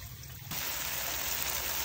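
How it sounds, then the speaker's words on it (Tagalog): Water poured into a cooking pot holding tomatoes, lapu-lapu grouper fish and vegetables for sinigang soup, a steady close splashing gush that starts abruptly and runs on without a break. "lalagay na tayo ng tubig"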